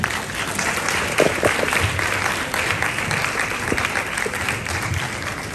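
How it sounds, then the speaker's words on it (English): Steady audience applause at a national cybersecurity challenge event as a speaker is welcomed, sustained dense clapping throughout at an even level with no talk over it. "the rule is that you keep clapping and the person starts speaking."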